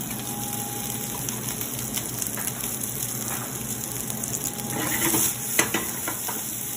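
Potatoes and carrots fry in a pan with a steady, close sizzle and faint stirring scrapes, no voices, swelling briefly near the end.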